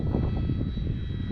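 Arrows RC Bigfoot model airplane droning steadily overhead at moderate distance, an even electric motor and propeller whine with no talking.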